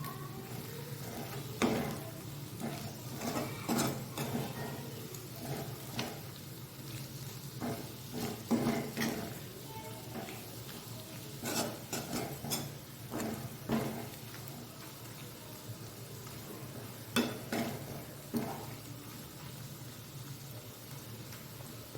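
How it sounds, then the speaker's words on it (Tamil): Chili powder is stirred into potato fry in a frying pan, with intermittent spatula scrapes and soft sizzling over a steady low hum, close and fairly quiet. "இப்போது மிளகாத்தூள் போட்டு ஒரு கிண்டி கிண்டி விடலாம்"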